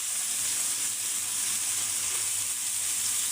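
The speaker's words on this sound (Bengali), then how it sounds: "দিয়ে দিলাম বাটা মশলাগুলো, একটু ভেজে নেব" Ground spice paste fries in hot oil in a village kitchen while a tilapia curry with drumsticks is made, a loud, unbroken sizzle and hiss close by with no voices.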